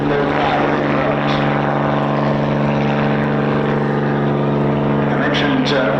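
A propeller aircraft engine during a taxy run at the East Kirkby airshow, holding a loud, steady, droning hum with a throbbing tone and no letup, while a commentator talks over it.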